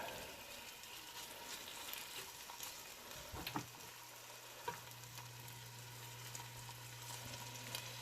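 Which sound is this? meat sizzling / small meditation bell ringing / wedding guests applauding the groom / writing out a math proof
meat sizzling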